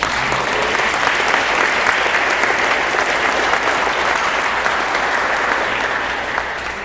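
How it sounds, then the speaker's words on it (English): A sustained round of applause from an audience, dense steady clapping filling the whole stretch at close range, tapering slightly at the end. "let's give them a round of applause."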